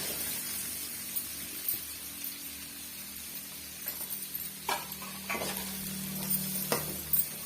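Chopped onions and green chillies fry over high flame for a pasta dish, a low steady sizzle broken by a few sharper spatula scrapes toward the end, no one speaking.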